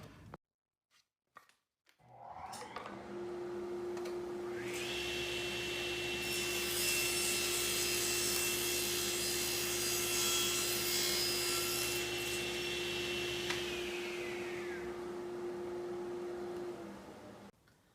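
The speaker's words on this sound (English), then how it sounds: "My third cut will be just taking away a tiny bit of material on the edge." A SawStop table saw with overarm dust collection spins up after a few knocks, then rips a thin strip off the edge of a wooden board with a steady high whine and grinding cut, before spinning down, close and loud.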